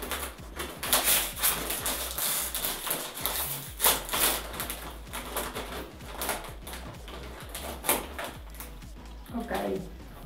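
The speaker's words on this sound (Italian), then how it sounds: "Apriamo il sacchetto." Crinkly plastic rustling and crackling as a bag of dill-flavoured hummus chips is torn and pulled open, in irregular bursts close to the microphone.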